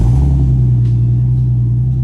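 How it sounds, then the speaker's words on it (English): A Toyota Supra with a new titanium exhaust idles just after startup, a loud, deep, steady rumble with a strong low drone, close to the tailpipe and without voices. "Here's a startup on the new exhaust."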